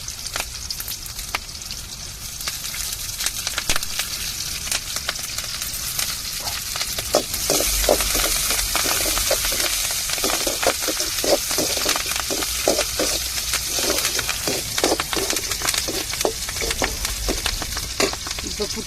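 Drumstick leaves sautéing in a pan for fish puttu sizzle steadily and loudly, with repeated clattering stirs of a spoon against the pan through the second half.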